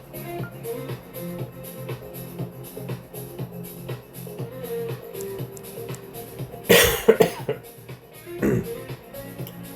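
A person coughs sharply once or twice, short harsh bursts standing out over steady background music and tones with light movement sounds.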